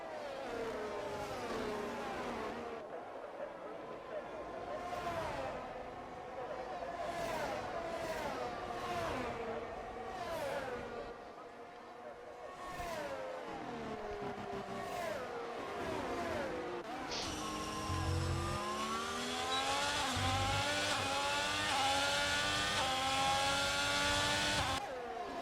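Several F1 2022 race cars in a video game run behind the safety car, their engines whining and rising and falling in pitch as they accelerate and lift, with a louder, closer engine taking over near the end.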